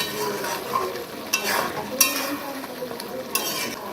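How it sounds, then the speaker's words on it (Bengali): Goat meat being stir-fried in a pan, with a steady sizzle and scraping stirring strokes, a few sharp utensil clinks against the pan, heard up close with no talking. "এইভাবে ঢাকা দিয়ে দিয়ে কষিয়ে কষিয়ে খাসি মাংস রান্না করলে খাসি মাংস খেতে খুব সুন্দর হয়"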